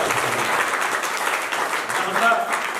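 Audience at the closing program of a Maulakalika yoga camp applauds in a dense, steady wash of clapping that holds for the whole stretch, with a voice speaking over it.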